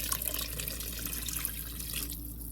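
Tap water pouring into a cooking pot for braising rouladen, a steady close rushing splash with a slight change in tone as the pot fills.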